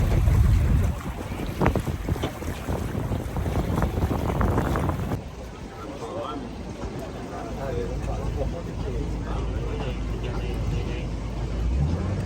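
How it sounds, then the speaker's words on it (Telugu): A boat pulls in at the jetty for the crossing to Nusa Penida in Bali, a low engine rumble mixed with wind buffeting and water wash, with people talking over it throughout. "బోట్ వచ్చేసింది"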